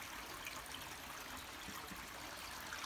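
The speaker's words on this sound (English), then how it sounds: "This peaceful sound of running water." A woodland stream runs steadily, a soft, even rush and trickle of water that continues without a break, faint and alone.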